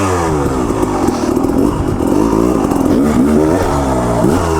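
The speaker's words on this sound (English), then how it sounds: "I can actually feel my bike slide around on the log." A KTM 300 Enduro two-stroke dirt bike rides over a log on a wet day, its engine loud and close, revving up and down with rising and falling pitch and scraping clatter.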